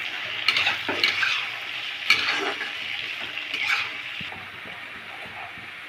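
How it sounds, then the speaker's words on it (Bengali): Chopped onions fry in mustard oil in a wok with cumin seeds, bay leaf and dried chillies, a steady bright sizzle broken by scraping stirs and occasional spatula knocks, close and continuous. "তো পেঁয়াজটা আমরা প্রথমে ভেজে নেব।"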